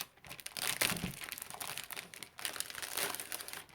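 Plastic or paper packaging is crinkled and torn open at close range, a dense continuous crumpling that rises and falls in two long bursts with a short pause between.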